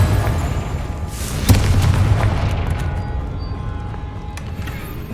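A Confringo blasting spell detonates in Hogwarts Legacy, a loud boom with a sharp burst near the start of the explosion, followed by a sustained rumbling roar and crackling debris that slowly fades.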